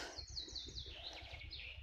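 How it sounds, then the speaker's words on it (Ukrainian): Small birds chirp and twitter repeatedly in a forest over a steady low rumble from a distant tractor, the calls light and somewhat distant. "пташечок дуже чути."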